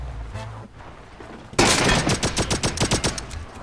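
Automatic gunfire in a shooting video game, opening with a quieter stretch, then loud rapid rattling bursts of shots in quick rhythmic succession at close range.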